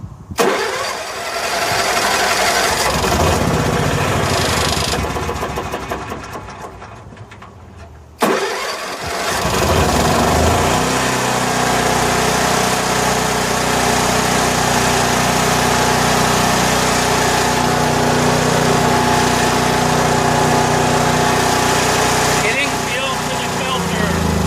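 A Honda 4000-watt generator fed from a new 17.5-gallon external fuel tank starts, cuts out briefly, then restarts and settles into a loud, steady mid-pitched running drone.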